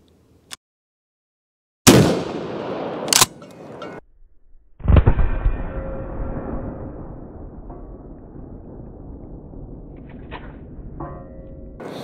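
A KelTec KSG .410 pump shotgun fired at targets on an outdoor range: two sharp, loud blasts close together, then a heavier boom with a long rolling echo and a faint later report.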